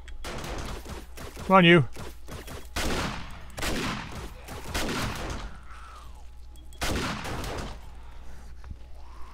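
Shotgun blasts on horde night in the survival game 7 Days to Die, a few loud separate booms spaced out over several seconds, with someone talking briefly in between.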